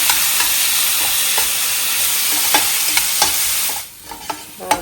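Cashews and raisins fry in ghee, giving a steady sizzle with a spoon stirring and scraping the pan at intervals, close and fairly loud, then briefly quieting near the end.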